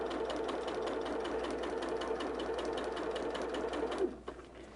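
A sewing machine runs at a steady fast stitch, its rapid mechanical whir continuing for several seconds before stopping abruptly.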